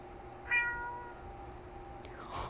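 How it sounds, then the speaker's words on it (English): A single sad, drawn-out cat mew from a video game, sounding clearly and fairly close over quiet background hum, with a faint soft noise following it. "It mews sadly, as if pleading for you to come back."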